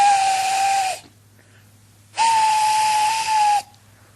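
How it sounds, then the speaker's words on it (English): A steam engine whistle sounds two long, loud, steady blasts separated by a short pause. "far away, but getting louder and louder, was the sound of an engine's whistle."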